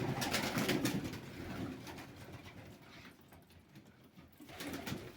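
Domestic pigeons coo softly and repeatedly in a low, throaty murmur, with a few rustles and flutters nearby.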